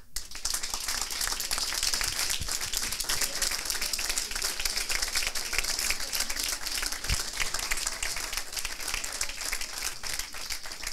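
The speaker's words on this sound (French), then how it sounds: "Et on peut les applaudir." Steady applause from an audience at a coding bootcamp demo day in Lyon, continuous dense clapping that fills the whole stretch without a break, loud and close, with no talk over it.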